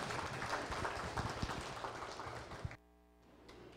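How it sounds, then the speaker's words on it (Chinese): A lecture audience at a Taiwanese civic meeting claps to welcome a speaker, a faint, dense patter of applause that cuts off abruptly near the end and leaves quiet room tone. "请大家以热烈掌声欢迎"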